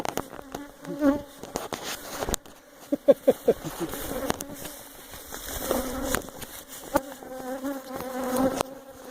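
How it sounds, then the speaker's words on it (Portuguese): Honeybees swarm and buzz around an apiary, a steady close hum of many insects with individual wings passing near, and occasional light knocks in the background. "E assim continua a saga das abelhas picadoras e fabricantes de mel"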